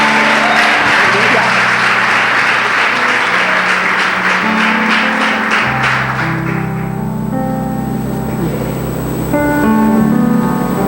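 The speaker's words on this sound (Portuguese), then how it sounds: "Vamos dar salva de palmas a esse Deus poderoso." A congregation at a Saturday women's congress church service claps together, with dense, loud applause for about six seconds over sustained music tones. The clapping then thins out while the music carries on.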